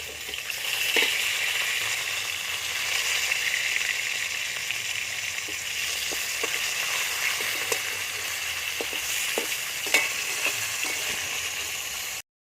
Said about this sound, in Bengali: মাছটা আমার ভাজা হয়ে গেছে আমি তুলে নেব